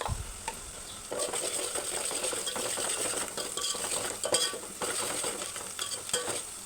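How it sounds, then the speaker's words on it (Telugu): Fried onions with turmeric and salt get stirred in a pan: a spoon scrapes and clatters against the metal over a continuous crackling sizzle, busy and close, with no speech. "దాంట్లోకి ఒక 1/2 టేబుల్ స్పూన్ పసుపు, 2 టేబుల్ స్పూన్ ఉప్పు వేసి మొత్తం ఒకసారి కలుపుకుందాం."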